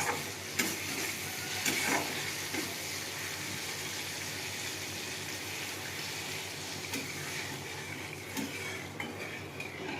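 Water goes into a pan of frying spice paste for a fish curry, giving a steady sizzle with occasional clinks of a spoon against the pan, fairly faint and with no talk.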